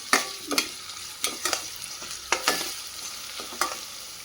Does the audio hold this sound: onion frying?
yes